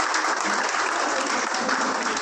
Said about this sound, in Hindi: मैं चाहता हूँ इस चीज के लिए आप उनके लिए तालियां बजाएं।